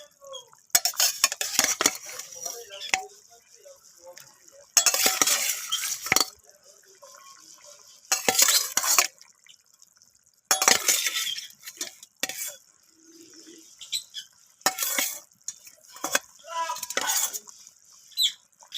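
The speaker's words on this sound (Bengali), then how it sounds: "তো মাছগুলোকে আমি ঝোলের সাথে একটু নাড়াচাড়া করে মিশিয়ে নিলাম।" Pieces of fried rui fish stirred into a simmering vegetable curry in a pan, with repeated bursts of spoon scraping and clinking against metal separated by quiet gaps and a faint bubbling.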